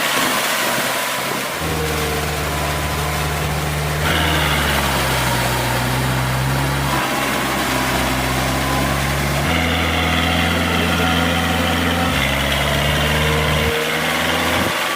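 A Kubota MU4201 diesel tractor engine runs steadily and loudly nearby, a deep, constant throb whose pitch shifts slightly several times as the revs change, with no voices over it.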